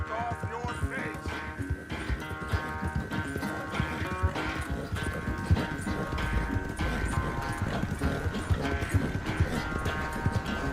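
Horse hooves clip-clopping at a steady ride in Red Dead Redemption 2, a continuous rhythmic patter under game music and ambience, with no talk heard.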